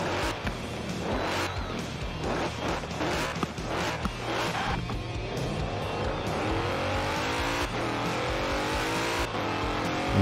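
A Mercedes-Benz 63S GT engine in the racing game Forza Horizon 4 revs and accelerates with rising and falling pitch and some tire squeal, loud and continuous without talking.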